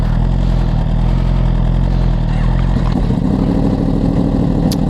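Sport motorcycle engine, a Yamaha R1 or Suzuki GSX-R1000R, running close by with a steady low rumble and loud mechanical clatter, the pitch shifting slightly near the end; no talking.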